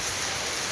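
Heavy rain pours steadily during a flood at a home in Sivaganga, a dense continuous hiss with no break, loud and close throughout.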